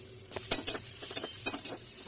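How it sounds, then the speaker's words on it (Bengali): Chow mein with fried vegetables and Maggi masala stirred in a hot pan, a close sizzle punctuated by a few crisp metallic clinks and scrapes of the spatula. "তো নাড়িয়ে চাড়িয়ে ম্যাগি মশলা,"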